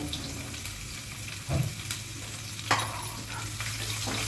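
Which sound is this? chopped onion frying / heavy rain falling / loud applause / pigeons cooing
chopped onion frying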